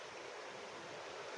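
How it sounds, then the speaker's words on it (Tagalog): A stream flows through the woods of McIntosh Run Regional Park in Halifax, Nova Scotia, making a steady, even rushing hiss of moving water with no breaks. "may naririnig kang ganyang tunog ng nature, yung agos ng tubig"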